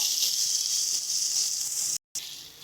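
Spices are sautéed in a pan for a katla fish roe dish, giving a steady, moderate sizzling hiss that briefly cuts out near the end before resuming more softly.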